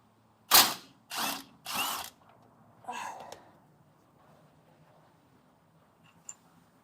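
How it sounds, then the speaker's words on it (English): A power tool rattles off a rear shock bolt on a BMW Z3's suspension in three sharp close bursts, followed by a softer fourth burst and then near silence. "I'm going to remove the bolt for the shock"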